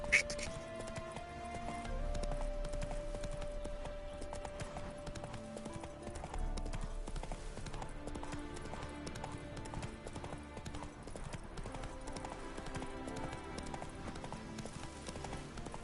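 Horse hooves clip-clop at a steady galloping rhythm in The Witcher 3 video game, moderately quiet under game sounds, with a person talking intermittently.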